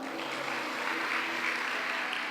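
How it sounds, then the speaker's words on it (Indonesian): Brief, steady applause from an audience at a church conference session in the Kemabong area, a dense wash of clapping without pauses. "Beri tepukan."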